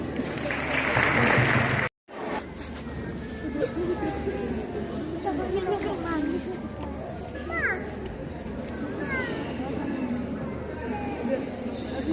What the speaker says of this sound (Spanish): Un forte aplauso para recibilos.